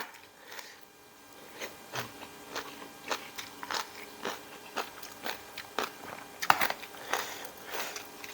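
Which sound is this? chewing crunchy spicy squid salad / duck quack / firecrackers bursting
chewing crunchy spicy squid salad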